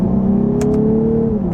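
Lexus IS 350 F Sport accelerating hard, its engine holding a steady rising drone before the 6-speed automatic shifts up and the pitch drops, heard loud from inside the cabin.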